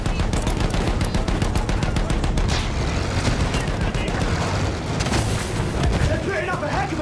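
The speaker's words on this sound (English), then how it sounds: "Those machine guns are holding our lads back." Battlefield 1 battle with continuous loud machine gun fire in dense rapid bursts, mixed with booming explosions and shouting voices throughout.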